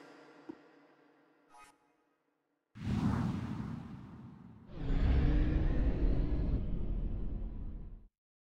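Two rushing whooshes with a low rumble mark a probe launching in the sci-fi game Mass Effect 2, the second burst longer and heavier, after a quiet stretch of faint ticks.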